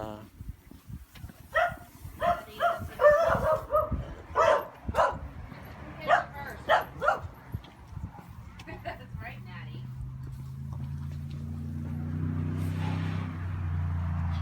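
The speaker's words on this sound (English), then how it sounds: "encouraging her dog to bark more" A dog barks in quick, repeated bursts over the first several seconds, fairly close, then falls quiet while a low hum of passing traffic or a car engine rises in the background.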